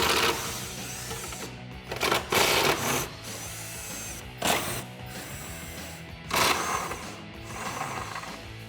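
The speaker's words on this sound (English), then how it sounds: "We're going to go ahead and get these bolts removed." Bolts on a Jeep Wrangler JK tire carrier being loosened with a 13mm socket on a ratchet or power driver, giving several separate bursts of mechanical whirring and clicking, close and moderately loud with quiet pauses between them.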